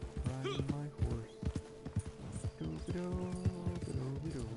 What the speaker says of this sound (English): riding my horse.